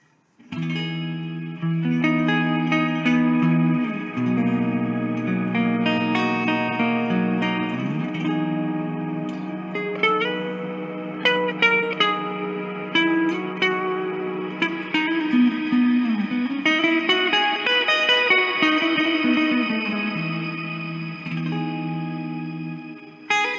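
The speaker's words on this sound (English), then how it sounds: "Now we go to the shimmer, which there's two different versions of the shimmer in here." A shimmer reverb setting on a guitar effects pedal washes sustained guitar chords in a lush, cathedral-like tail with octave-shifted overtones shimmering above, playing continuously and fairly loud with no talking.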